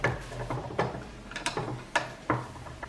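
Screws are driven in while a gaming PC is assembled: a series of small, close, distinct clicks and ratcheting ticks come at irregular intervals, quiet and unaccompanied by talk.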